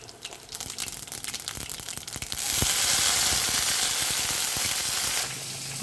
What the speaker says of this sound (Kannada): ಈಗ ಸಾಸಿವೆ ಹಾಕೋಣ.